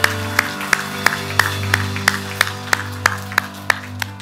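Church congregation at a Sunday worship service clapping in praise: a steady, evenly spaced rhythm of sharp unison claps, roughly three per second, loud and close over a sustained organ or keyboard drone, with no talking.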